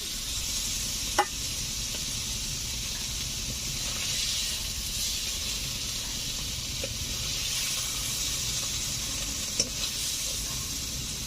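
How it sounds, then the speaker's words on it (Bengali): Lightly fried amudi fish crackles in hot oil, a steady close hiss and sizzle punctuated by a couple of faint clicks as the pieces are lifted out. "মাছগুলোকে হালকা করে ভেজে নিয়েছি, এখন তুলে নিচ্ছি।"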